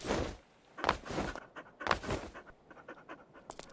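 Dog panting in the game Stormworks, quick rhythmic breathy pants heard up close in short bursts, with brief quiet gaps and faint clicks between them.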